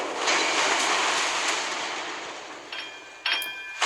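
Courbet battleship's rear turrets firing in the naval combat game Naval Creed, a dense rumbling barrage with sharp reports, followed by a couple of distinct louder blasts near the end.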